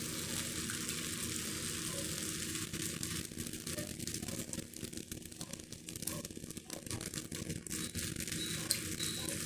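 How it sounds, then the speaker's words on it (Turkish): Cold sugar syrup poured over a hot tray of freshly fried walnut kadayif sets off a loud, continuous crackling sizzle, close and steady for several seconds. "soğuk şerbetimizi döküyoruz arkadaşlar. Tepsimiz sıcak tatlımız."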